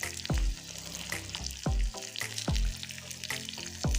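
Onion, ajwain and garlic frying in mustard oil, a loud crackling sizzle with periodic thumps and scrapes of a spoon stirring the pan.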